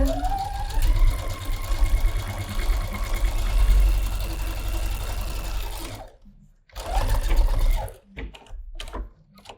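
A sewing machine stitches the facing of a pajama top in a long steady run of rapid mechanical whirring, then stops and starts in a few shorter bursts separated by pauses.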